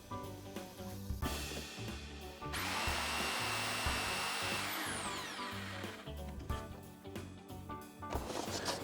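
The blade of a homemade portable foldable table saw runs for a while, a close, loud, steady whirring rush that swells in the middle and then winds down, with no talk.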